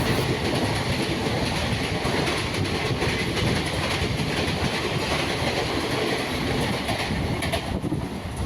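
A local EMU electric train runs between Pattabiram and Hindu College near Avadi, a continuous loud rolling roar with rattling carriages and faint rhythmic clatter of wheels, heard from inside the moving train with no voices.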